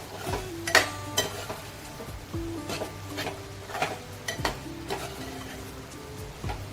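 A spoon stirs a monsoon vegetable (kantola) with jaggery and coriander in a pan, producing repeated close metallic scrapes and clinks against the pan over a faint sizzle, in an irregular steady rhythm without talk.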